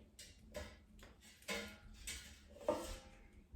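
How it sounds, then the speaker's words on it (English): Air fryer basket pulled open and frozen Eggo waffles flipped inside, a few quiet clinks and clacks of metal and tongs spaced out over near silence. "let's open the air fryer basket and flip the waffles over so they cook evenly"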